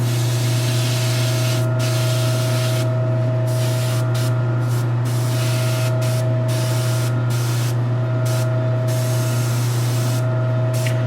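Gloss black lacquer enamel paint hisses in a steady spray from a lowered-pressure spray gun inside a running spray booth, with the booth fan's low hum underneath and brief pauses between passes on a custom statue.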